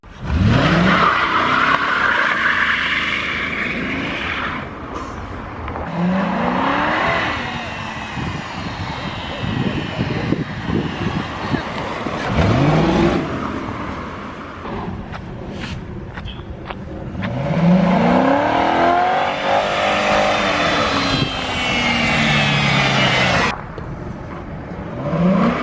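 A homemade convertible car drives through snow in cold weather, its engine roaring loudly and rising and falling in pitch with repeated revving surges throughout, the sound close and continuous.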